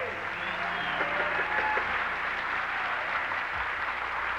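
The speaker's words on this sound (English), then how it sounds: "They wheeled her out, and the crowd just went wild" A Grand Ole Opry crowd applauds wildly as a performer is wheeled out onstage, sustained clapping and cheering from a large audience filling the hall, steady and moderately loud throughout.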